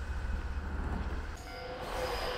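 A Nankai Main Line local train bound from Wakayama rumbles past the Hamadera-koen No. 1 level crossing with loud, close, continuous wheel and car noise and a faint high squeal, with no voices.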